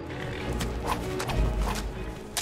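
A horse in the Skyrim video game during combat, with a few hoof thuds and a brief snort or whinny over a steady low background rumble, moderately loud and close.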